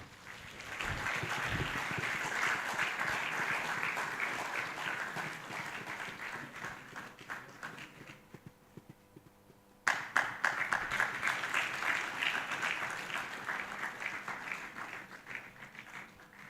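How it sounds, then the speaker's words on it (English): Sustained audience applause at the Rethink Africa 2025 event greets a keynote speaker on AI and employment, steady clapping continuing for many seconds with a brief lull before another strong burst. "We keep clapping till he gets here."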